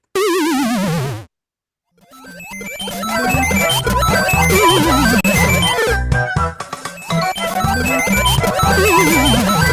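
Several synthesized melodies pile up and play over one another in a dense, loud tangle, after a single tune that stops and a brief silence.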